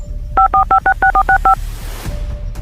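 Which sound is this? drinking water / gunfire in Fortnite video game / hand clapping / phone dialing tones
phone dialing tones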